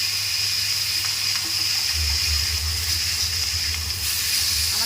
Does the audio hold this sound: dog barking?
no